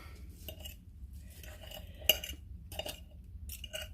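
Two forks shredding cooked chicken for a buffalo chicken wrap, metal tines clinking and scraping against the dish in irregular, close, fairly quiet strokes.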